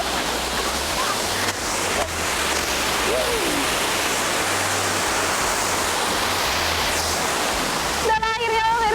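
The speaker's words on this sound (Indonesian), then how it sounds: "jatuhan air yang begitu deras dari air terjun Purwosari" Water pours down hard at Purwosari waterfall in Simalungun, filling the air with a broad, constant roar from close by, and a voice speaks briefly near the end.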